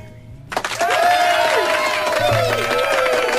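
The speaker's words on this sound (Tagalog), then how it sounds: "Bakit? Ba't may mga palakpak?" A loud wash of applause and cheering bursts out in a radio studio after a quiet start, holding dense and steady while a voice talks over it.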